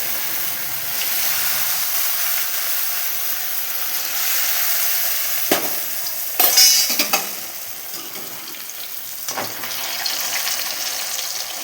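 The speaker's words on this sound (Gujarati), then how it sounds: "એક રોલ પછી રોલ તળવા રીતના નાખી દેવું." Sev rolls deep-fry in hot oil with a steady, close hiss of bubbling, interrupted by a few sharp clinks and scrapes of a utensil in the pan.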